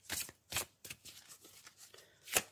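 Oracle cards being shuffled for a card draw, several quick papery riffles in separate bursts, close and clear with no talking.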